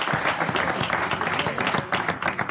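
A studio audience at a Moroccan stand-up comedy show breaks into steady, dense applause to welcome the coaches, continuous clapping filling the room from start to finish.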